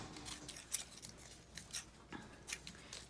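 Scissors snip the ends off faux vintage distressed tape in several quick, crisp cuts spaced unevenly, faint and close in an otherwise quiet room.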